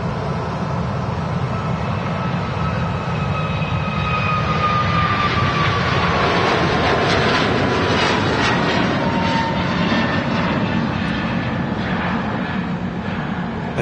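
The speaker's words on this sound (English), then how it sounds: "Oh, Aer Lingus JFK service." An Aer Lingus jet airliner on the JFK service at Manchester Airport, a loud steady engine roar with a whining tone that sweeps slowly as it passes, continuous and close throughout.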